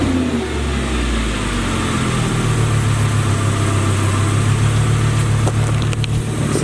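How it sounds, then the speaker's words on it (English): Audi R8 V10 on its stock exhaust fires up loud and close. A brief cranking leads into a rising rev, and the engine then settles into a steady, deep idle. "It's time to hear one last startup on the stock exhaust."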